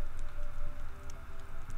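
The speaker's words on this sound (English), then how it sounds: "It's raining." Rain falls in the video game Stardew Valley as a steady, soft patter of droplets, a continuous wash of sound with no voices over it.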